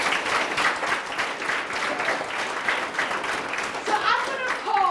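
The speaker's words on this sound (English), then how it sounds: "Now clap for yourselves again." Primary schoolchildren clap for themselves, a lively, dense patter of small hands filling the room and continuing steadily, with children's voices rising over the clapping toward the end.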